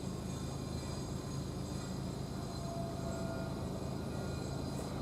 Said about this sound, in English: Now we've got a Greater Anglia train with the 13:31 service from Felixstowe towards Ipswich.